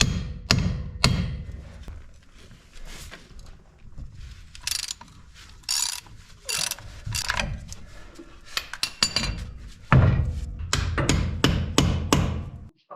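Metal striking and clanking as a nut left on a 2003 Ford F250 ball joint is hammered to knock the bearing loose, irregular loud blows and clinks up close, some in quick clusters, no voices.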